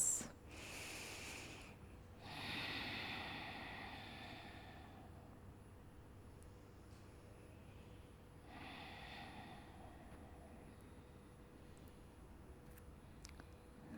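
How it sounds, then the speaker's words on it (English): Slow, deep breathing during a yoga pose, with two long airy inhale-exhale cycles and a third fainter breath, near and quiet against a soft background hum and no speech. "Let's take 3 more breaths."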